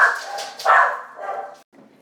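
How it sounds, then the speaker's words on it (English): A dog at home barks loudly and close after a delivery driver pounds on the door, giving a few sharp, excited barks and yelps within two seconds before breaking off. "Sorry about the sudden dog screaming."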